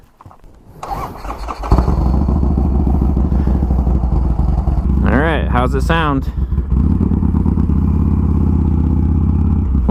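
A Harley Sportster motorcycle with fresh spark plugs starts with a thump and settles into a loud, close, lumpy idle with steady rhythmic firing. Someone speaks briefly over it, and a short rising whine cuts in partway through.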